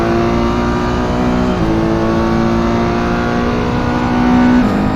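Ferrari 488 race car engine in a racing video game at a night race at Sebring, a loud steady high-revving drone held at near-constant pitch with a couple of quick gear shifts.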